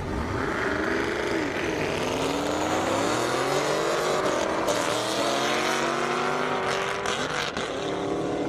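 Two Camaro race cars, one rated at 750 horsepower, accelerate hard down an airstrip drag course, engines roaring and climbing steadily in pitch, loud and sustained throughout.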